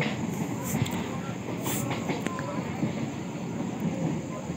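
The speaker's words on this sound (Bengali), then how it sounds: "ট্রেন খুব স্পিডে যাচ্ছে, দেখা পাচ্ছেন বন্ধুরা।" A train running at high speed, likely heard from on board on a Diamond Harbour trip, giving a steady broadband rumble with faint rail clatter and occasional sharp squeaks throughout.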